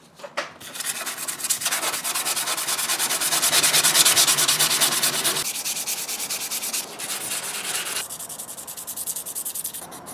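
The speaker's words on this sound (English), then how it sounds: "So I'm going to go ahead now and start sanding." Continuous abrasive rubbing of sandpaper on a metal knife blade, loud and close, with steady back-and-forth strokes that shift in tone several times.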